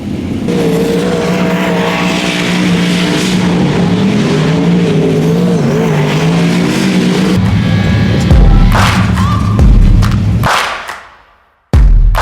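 A race car's engine runs loud and steady on the dirt track at Toowoomba Speedway, then flutters and sputters unevenly before cutting out abruptly into near silence, followed by a short burst at the end.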